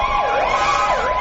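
An ambulance siren wails near a street protest outside a ministry, its loud, rising and falling tone sweeping continuously with no voices.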